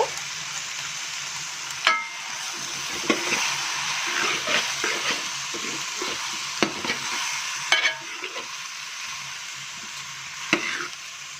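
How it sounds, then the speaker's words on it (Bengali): Rice frying with vegetables in a pan for vegetarian bhuna khichuri, a continuous crackling sizzle broken by occasional sharp clicks and scrapes of stirring. "চালগুলো একটু সবজির সাথে 2 থেকে 3 মিনিট ভেজে নেব।"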